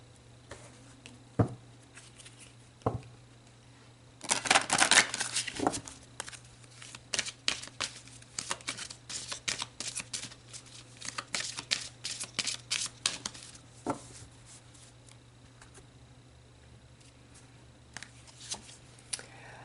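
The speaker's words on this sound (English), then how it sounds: "Let's pull some more cards and dig deeper." Tarot cards are shuffled close up in rapid bursts of riffling and flicking, with one dense run early on and then scattered card snaps and softer slides over a low steady hum, and no talking.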